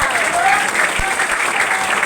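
Audience applause at a business training seminar, a dense steady wash of clapping with a few voices mixed in, fairly loud and continuous throughout.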